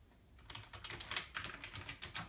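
Keys clack on the original keyboard of a Commodore Amiga 500 home computer, a steady run of close, fairly quiet keystrokes in quick rhythm with no talking.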